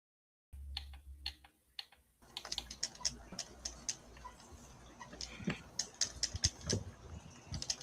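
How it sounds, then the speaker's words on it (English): Typewriter keys clack in quick irregular bursts, a steady patter of sharp close taps running for several seconds after a short pause, with no voices over the typing. "Somebody using a typewriter?"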